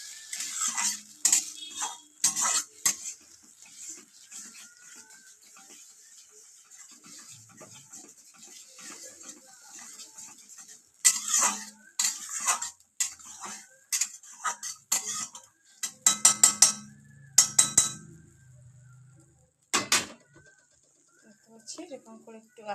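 Ginger and chilli paste stirred in a pot with a metal spoon: irregular clinks and scrapes come in bursts, loudest toward the middle, with birds chirping faintly in the background.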